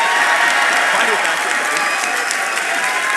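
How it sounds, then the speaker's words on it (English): An audience at a political talk event applauds loudly, a thick continuous roar of clapping with crowd noise that stays at full strength throughout. "That gets the biggest applause."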